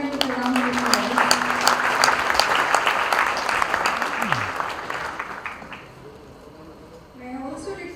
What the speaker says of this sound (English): I'm sure we can support them with a round of applause.